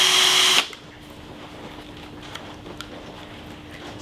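A power drill drives a homemade induction-motor alternator fitted with neodymium magnets, rated around 40 watts at low RPM. A loud, high whirring burst lasts under a second before cutting out, leaving a faint steady hum and a few light clicks.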